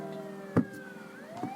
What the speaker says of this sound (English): You hear sirens down the street.